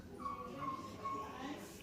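A small, very old greyhound whimpering in a few thin, high drawn-out whines, fairly quiet and close, over a low background murmur.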